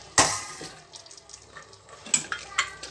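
Tap water splashing while a pressure cooker is washed in a home kitchen, with a sharp clatter at the start and another near the end over a soft, steady running stream.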